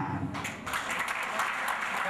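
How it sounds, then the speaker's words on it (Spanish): Applause from an audience at a 70th-anniversary celebration, a dense steady patter of many hands lasting about two seconds, with a murmur of voices mixed underneath. "El aplauso para don Carlos Molina."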